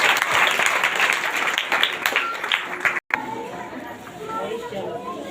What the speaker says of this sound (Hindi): इसलिए आप लोग तेज ताली के साथ परमेश्वर को धन्यवाद दीजिए।